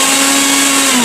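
A mixer grinder churns cream in its jar to separate ghee, a loud steady motor whine running continuously and close up with no talking.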